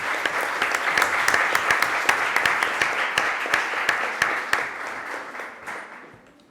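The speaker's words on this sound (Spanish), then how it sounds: "Así que un fuerte aplauso, por favor." Audience applause at a pitching event, steady and loud with crisp individual claps for several seconds before it gradually fades out.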